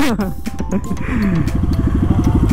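An off-road motorcycle engine revs in a rising, pulsing rhythm close by on rough terrain, while someone talks over the start of it.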